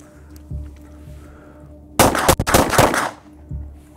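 Gunfire from a Browning High Power Mark III pistol fouled with mud: a loud, close burst of rapid shots packed into about a second, with brief gaps between reports, over quiet outdoor background.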